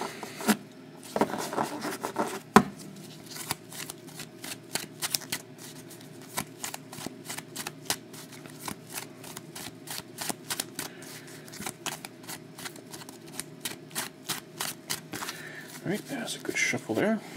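Trading cards from a sports card box break being shuffled by hand, a long run of rapid crisp riffling clicks in bursts with short pauses, fairly close and moderately quiet, with faint background noise.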